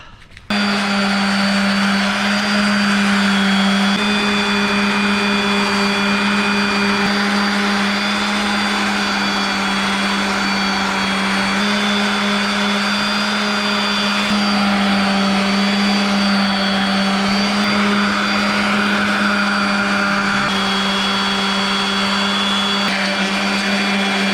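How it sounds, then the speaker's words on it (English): A power sander scuff-sands motor parts during an engine rebuild, giving a loud, steady, continuous whine that runs unbroken from start to finish with no voices. "next thing I want to do is scuff sand."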